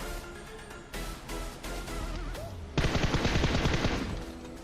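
Gunfire in a mobile battle royale game, with scattered shots through the first half, then a dense rapid burst of automatic fire that stays loud and close to the end, with no talk over it.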